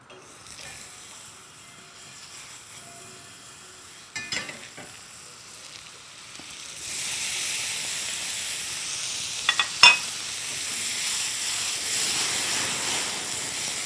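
Food frying in oil in a pan, with a soft sizzle that turns into a louder, steady hiss partway through and a few sharp clinks from stirring.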